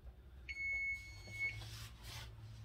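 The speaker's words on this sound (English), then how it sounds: "the alarm just went off." Kitchen timer alarm sounding while baked spaghetti cooks: one clear, steady electronic beep tone lasting about a second, close and fairly loud over a low hum, followed by faint rustling.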